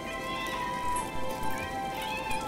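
Cat meows from cats named Pumpkin and Firecracker, indoors, several short tonal calls repeating over a steady low background hum, moderately close.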